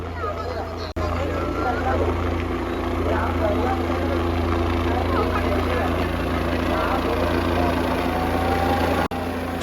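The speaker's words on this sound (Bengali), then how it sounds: "হেলিকপ্টার থেকে করা হচ্ছে পুষ্পবৃষ্টি" Helicopter passing over the Triveni Sangam during the Mahakumbh Shivratri holy bath, showering flower petals on the crowds; a steady droning rotor and engine hum fills the whole stretch, with broad crowd noise and indistinct voices beneath.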